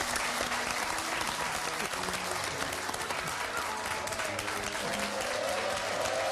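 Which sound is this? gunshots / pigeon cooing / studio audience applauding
studio audience applauding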